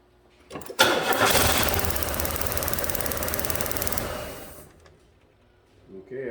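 A 1994 Buick 3800 engine cranks and catches during a coil spark test, running loud and rough with a knocking edge for about four seconds before cutting off. A faint voice or noise returns at the very end.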